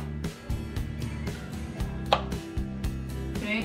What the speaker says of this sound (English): Let me just cut these into sliverinos.